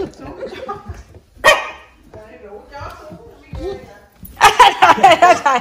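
A dog gives a few short barks and yips at a family home in Chicago, with adults and someone talking over and around it.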